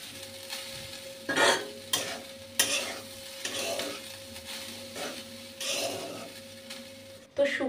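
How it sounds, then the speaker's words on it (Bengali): Grated coconut being stirred in a dry pan, producing a series of scraping, rustling strokes at an uneven rhythm, fairly close and moderately quiet, with a faint steady hum underneath. "শুকনো খোলায় নারকেল কোড়াটা একটু নেড়ে চেড়ে নিচ্ছি"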